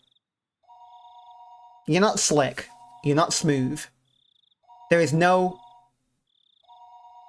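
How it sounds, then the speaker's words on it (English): A telephone rings in Higurashi When They Cry: a repeating electronic trill that pauses and returns, mostly sitting under a man's nearby speech. "But since the phone rang, I had to pick it up."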